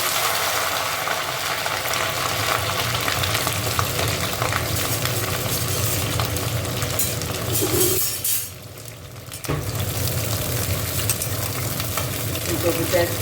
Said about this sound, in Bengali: ফুলকপিটা একটু ভেজে তুলে নেবো